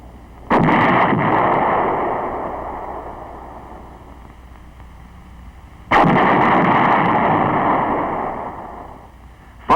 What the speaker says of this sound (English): new artillery piece that has proved itself in the field is the M102, a lightweight 105 millimeter howitzer